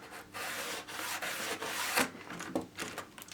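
Scalextric track being scrubbed with a 60 grit cleaner, a close, dry rasping rub in short repeated strokes with small knocks between them.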